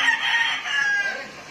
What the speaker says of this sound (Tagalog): Tupak lang talaga mga manok na to.